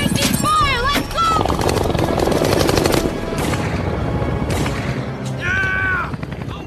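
Sharp gunshots and bursts of weapon fire from the film Avatar as the colonel shoots at the fleeing group, scattered through the scene under a narrating voice, with whining mechanical tones.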